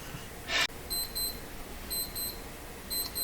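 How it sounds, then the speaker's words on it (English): An alarm clock that cannot be switched off rings in bursts of high, electronic beeping against a steady room hiss, briefly interrupted by a single gasp-like breath near the start. "that's that clock that I can't shut the alarm off"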